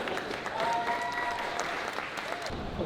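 A Q&A cohort audience breaks into sustained applause, steady close clapping throughout with a few voices calling out faintly beneath it.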